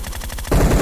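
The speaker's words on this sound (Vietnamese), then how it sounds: "Ôi mình lại phải đi bắn" Automatic weapon fire in the PUBG Mobile video game rattles out in rapid, evenly spaced shots, close and loud, then thickens into a denser burst in the second half.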